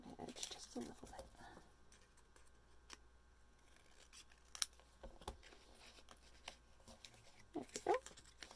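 Scissors trimming the edge of a craft paper piece from a garden doors craft kit, a few quiet close snips scattered through faint room noise.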